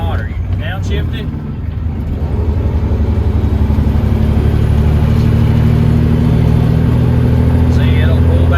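A straight-piped Coronado race truck engine growls loudly and close, revving as it downshifts, with a steady heavy exhaust drone that builds and holds high; a voice talks briefly early on.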